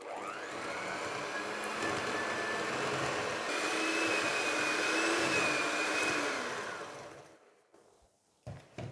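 An electric mixer creams butter and sugar for a traybake, giving a steady whirring drone with a faint rising whine that runs for about seven seconds and then cuts off.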